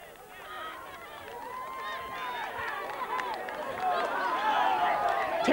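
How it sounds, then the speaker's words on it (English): Crowd at a 1997 Meath Hill versus Dunsany league final in Gaelic football, rising roar and shouting after a goal, swelling louder toward the end with a commentator talking over it. "And the crowd goes wild here."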